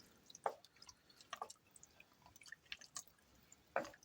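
Soup being stirred in a crockpot, giving a few soft, wet liquid clicks and drips at irregular moments, fairly faint and close, with no talk.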